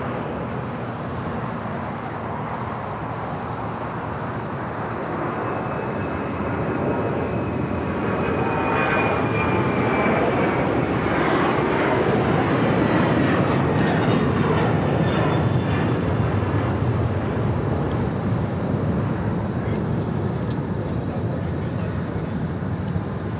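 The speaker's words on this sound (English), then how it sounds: "That was Air China Cargo 8442 taking off to Shenyang on the 747-400 converted freighter." An Air China Cargo Boeing 747-400 converted freighter takes off from Los Angeles airport, its four-engine roar swelling steadily to a loud sustained rumble with a whining tone sweeping across, heard from a distance under occasional talk.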